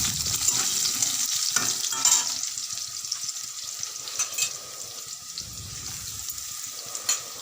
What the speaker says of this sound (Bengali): আলুগুলিকেও লাল লাল করে ভেজে